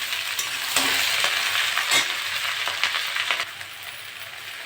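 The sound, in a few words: stir-frying okra and potatoes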